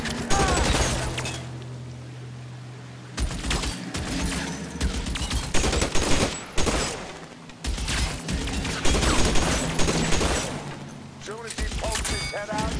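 Bursts of gunfire in the video game L.A. Noire, rapid volleys of shots broken by short pauses, loud and close, with a player talking over parts of it.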